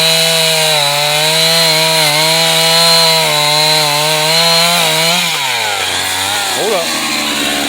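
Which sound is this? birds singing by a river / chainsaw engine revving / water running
chainsaw engine revving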